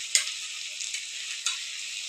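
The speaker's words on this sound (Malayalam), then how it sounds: "ഇനി നമ്മളതിലേക്ക് മുളക് പൊടി ഇടുകയാണ്." Chili powder is added to a frying pan while cooking curd mango, and it sizzles and hisses in a soft, steady way. Two sharp spoon taps ring out about a second apart as it is stirred, with no talking.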